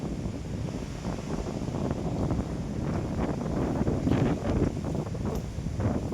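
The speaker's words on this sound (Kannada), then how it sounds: "ಭಯಾನಕ ಗಾಳಿ" Strong wind gusts roar continuously across the microphone at the mouth of a big hillside cave near a historic Shiva temple at Kotebetta, buffeting loudly and unevenly throughout.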